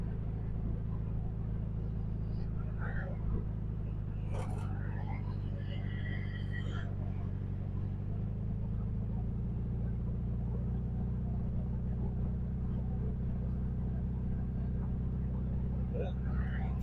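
A 1971 Volkswagen Beetle Autostick engine drones steadily from inside the car while driving, a low continuous hum with brief shifts in pitch, mostly under quiet talk.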